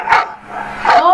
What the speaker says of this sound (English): Oh, they're barking at the fence.